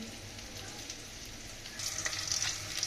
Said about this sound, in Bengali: রসুন পেঁয়াজ একসাথে দিয়ে দিলাম, বাদামি কালার করে ভেজে নিচ্ছি